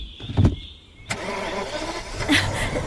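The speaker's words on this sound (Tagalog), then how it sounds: "Teka, umaandar na siya, Troy." A car engine cranks and catches, then settles into a steady idle running close by, with a sharp click beforehand and a brief bump in revs later.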